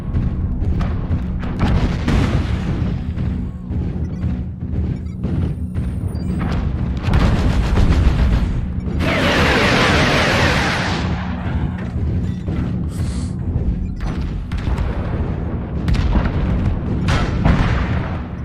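A barrage of LRM missiles from a Sunspider mech in MechWarrior Online, with a long run of loud, repeated booming launches and impacts and a dense roaring burst in the middle.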